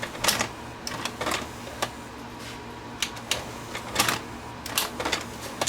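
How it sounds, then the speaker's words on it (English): A Sharp VC90 multi-system VCR with a fault pulls a tape in and pushes it straight back out, its mechanism clicking, whirring and clunking in a busy mechanical rhythm, close and clear. "Hit the eject button and the tape goes in and comes out."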